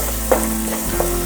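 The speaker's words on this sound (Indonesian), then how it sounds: "Kita tumis bumbu sampai matang dan tanak." Spice paste with galangal, lemongrass and bay leaves sautés in a pan as a steady, close sizzle with a couple of soft stirring taps, no voices.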